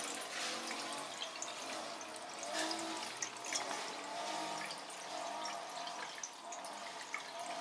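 Water rushes and trickles through a pipe, a steady watery hiss with occasional drips and gurgles, fairly quiet and with no talking.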